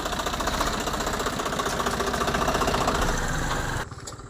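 Swaraj 744 tractor engine in reverse gear, a steady loud mechanical drone with a rapid knocking rattle that runs close and continuous, then drops off sharply near the end.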